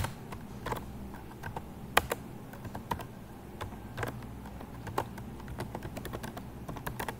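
Rapid, uneven keystrokes on a computer keyboard while HTML code for unordered and ordered lists is entered, a steady run of soft clicks close to the microphone with no talking.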